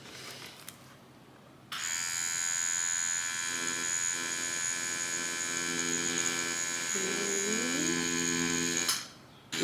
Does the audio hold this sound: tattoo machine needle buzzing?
yes